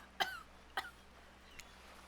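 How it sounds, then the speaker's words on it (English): Two short, sharp coughs close together, then a fainter third, in an otherwise quiet room. "Oh, I'm coughing."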